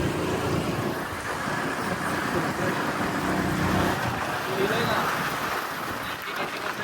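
A country vehicle rumbles along a village road, its steady engine and road noise filling the background under people talking.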